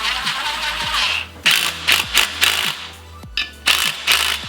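Bolts with lock washers are run in while fitting a Wilwood big brake kit on a Toyota AE86: quick metallic ratcheting clicks and rattling bursts in irregular clusters, close and fairly loud, with no one speaking.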